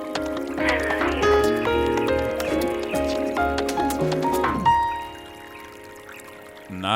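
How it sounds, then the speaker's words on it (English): Water pouring sound effect within a music track, bright liquid gurgles layered over melodic tones and a steady beat before the music drops away near the end. "Water sounds."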